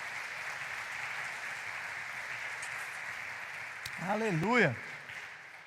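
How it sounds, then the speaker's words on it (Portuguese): A church congregation applauds in a steady, moderately distant wash of clapping, with a voice calling out over it near the end. "Quem crê nisso, dê um aplauso ao Senhor Jesus"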